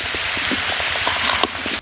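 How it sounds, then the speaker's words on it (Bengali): Young pumpkin pieces with turmeric, salt and green chilli fry in hot oil, giving a dense, steady crackling sizzle close up, with soft stirring taps underneath before it stops suddenly. "লবণ দিয়ে তেলের সাথে একটু ভালো করে নেড়ে চেড়ে ভেজে নিচ্ছি।"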